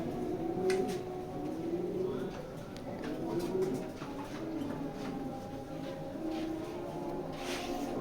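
Racing pigeons coo repeatedly close by, low, throaty calls rolling in overlapping waves over a faint background murmur.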